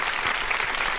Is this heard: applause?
yes